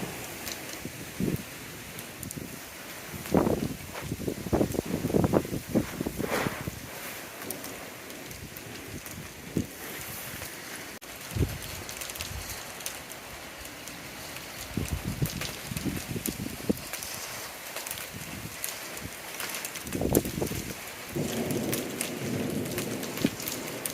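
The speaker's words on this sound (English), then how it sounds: "windstorm is coming." Gusty wind and rain during a windstorm in the Okanagan region of British Columbia, a steady outdoor wash with irregular louder gusts and rustling bursts throughout.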